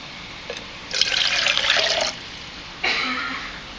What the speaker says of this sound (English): while that's priming, I'll pour the water into the BOT.